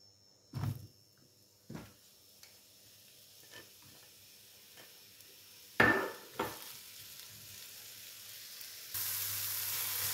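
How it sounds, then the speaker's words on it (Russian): Quiet frying of mushrooms in a pan, broken by several sharp scrapes and clunks of stirring, with a louder steady sizzle near the end. "Вначале грибы отправляем на сковородку"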